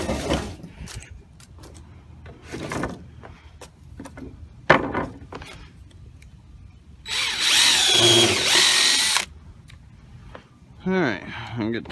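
A power drill whirs in short bursts driving screws, with a longer, louder run near the end, surrounded by clanks and tool handling at close range.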